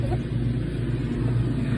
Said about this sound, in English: Sorry for the lawnmower noise.